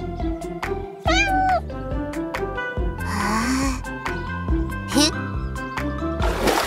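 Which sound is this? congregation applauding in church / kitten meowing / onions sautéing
kitten meowing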